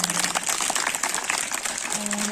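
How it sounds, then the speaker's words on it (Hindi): Crowd applause at a clothes distribution event, a dense steady wash of many clapping hands held for a couple of seconds, with a faint tone drifting in near the end. "प्रभु के लिए हम लोग एक बार जोरदार ताली बजा सकते हैं"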